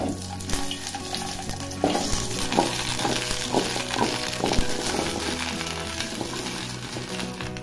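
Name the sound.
gooseberries (amla) being sautéed and stirred in oil with tongs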